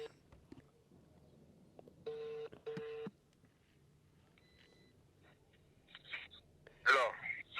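A telephone being dialed, two short bursts of touch-tone keypad beeps followed by a faint tone and later a brief burst of noise, quiet and close with no talk.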